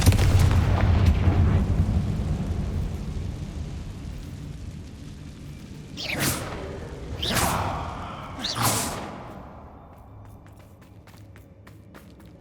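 Confringo fire spells burst in Hogwarts Legacy: three quick whooshing blasts, each with a bright rushing crack and a deep boom, spaced about a second apart after a rumbling, noisy stretch.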